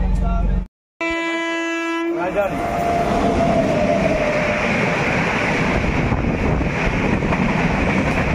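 A local passenger train stands at Bankura Junction, and its locomotive sounds a loud sustained horn after a brief dropout. Steady engine and rail rumble then continues, with voices faintly audible in the background.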